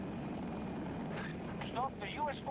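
A helicopter in a video game, in a rainy in-game setting, gives a steady broadband rotor drone throughout, with people talking over it.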